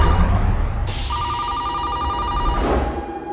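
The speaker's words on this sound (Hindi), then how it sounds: "फैक्ट्री में कोई फोन नहीं उठा रहा है।" Telephone ringing unanswered in a factory with a furnace, a steady electronic ring pulsing at a regular rate for about one and a half seconds over a dense, noisy background.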